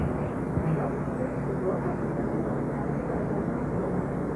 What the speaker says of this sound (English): Again, there's another airplane going over at the side.